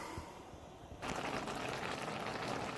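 A pot of spaghetti water boils on a stove, a steady hiss and bubbling that grows louder and denser partway through, close and continuous, with no talking.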